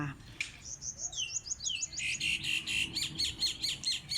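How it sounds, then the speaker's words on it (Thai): Several birds chirp and tweet in quick, bright repeated calls, fairly close, in a backyard garden with a quiet background and faint insect hum. "เป็นไงคะบรรยากาศเสียงนก"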